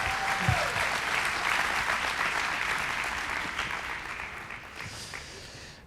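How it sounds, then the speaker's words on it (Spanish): Loud, sustained applause from a church congregation welcoming a speaker, a dense wash of clapping that slowly fades over several seconds. "Vamos a darle un fuerte aplauso."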